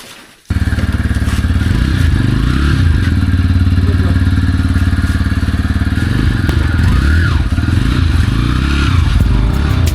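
A TVS motorcycle engine runs steadily and close by as it is ridden along a snowy lane in Kashmir, with a constant harmonic drone, occasional thumps and clatter, and a brief quiet moment before the engine sound begins.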